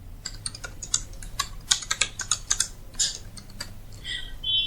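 Fast typing on a computer keyboard during a Microsoft Word demonstration, a rapid irregular run of clicky keystrokes at close range with a low background hum and no talk.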